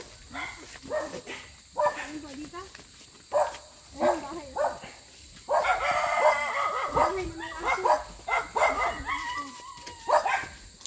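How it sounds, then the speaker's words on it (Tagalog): A dog barks repeatedly in short, close bursts, interspersed with people talking nearby and a rooster-like crowing sound in the background. "Aileen, Aileen, anuhin mo yung aso, Aileen."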